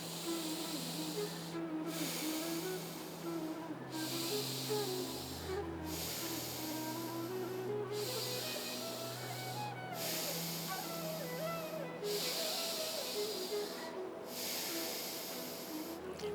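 Slow exhalations through the nose during a yoga breathing exercise, one nostril held closed. The soft, steady hiss rises and fades about every two seconds over quiet instrumental music.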